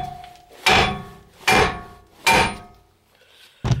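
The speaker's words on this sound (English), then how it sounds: "take a hammer and just hit this bottom ball joint so we can pull this apart" A heavy hammer strikes the lower front ball joint on a 2008 Dodge Avenger suspension, three loud metallic blows about a second apart, then a fourth hit begins at the end.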